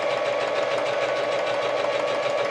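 Sewing machine stitching a sock for a handmade sock toy, running in a fast steady mechanical whir with rapid needle clatter, close and continuous without speech.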